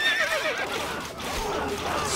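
A horse in the medieval strategy game Stronghold Crusader neighs in a long, wavering whinny, loud and close, over a steady din of battle noise.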